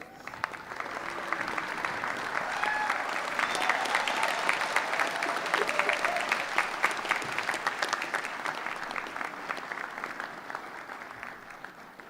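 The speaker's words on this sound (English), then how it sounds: "Could you stand, please, and give them a big round of applause?" A graduation ceremony audience stands and applauds, a broad sustained clapping from a large crowd that swells and then gradually thins toward the end.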